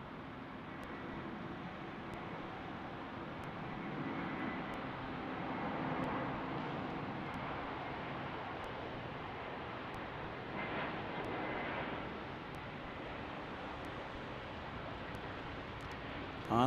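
An Airbus A321 airliner on the ground at Salt Lake City produces a steady, moderately loud broadband engine roar that holds throughout with only gentle swells, and no one talks over it.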